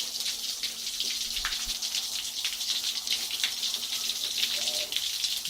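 Water running steadily through a flushing hose on a Mercury outboard motor during annual servicing, a continuous hissing spray with faint splashes and a low hum underneath.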